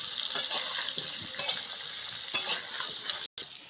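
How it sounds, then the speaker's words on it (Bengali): Raw jackfruit pieces frying in oil for a prawn dish, with a steady sizzle and occasional stirring scrapes, no voices. "হালকা করে ভেজে আমি এঁচোড়গুলো তুলে নেব।"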